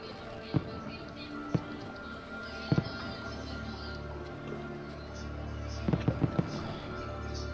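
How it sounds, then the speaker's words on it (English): Pistol shots fired in Assassin's Creed II, several sharp, loud cracks spaced irregularly, one alone early, then a close pair and a quick cluster of three or four near the end, over a steady game background. "then press and hold to shoot"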